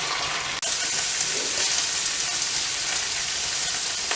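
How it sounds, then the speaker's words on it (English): Bacon and mushrooms fry together in one pan, giving a loud, steady, dense sizzle that carries on with no break apart from one brief dip near the start. "Turn the bacon over, and you join me back in a second when they've cooked a bit better."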